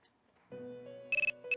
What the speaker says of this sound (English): Cell phone is ringing.